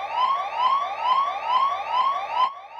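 A cartoon fire truck siren wails in loud, rapid, repeating rising sweeps, about five even cycles before the tone shifts near the end, with no speech.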